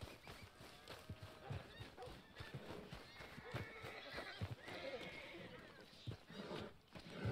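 A horse in Red Dead Redemption 2 whinnies while its hooves clip-clop in a steady walking rhythm, close and clear, with voices talking faintly in the background.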